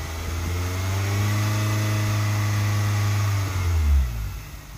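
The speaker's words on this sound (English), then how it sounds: "Revving it up makes your water pump spin faster," A 2002–2006 Nissan Altima 2.5 engine, being bled of air after a radiator replacement, revs up and holds a loud, steady high note, then drops back down near the end; close and alone.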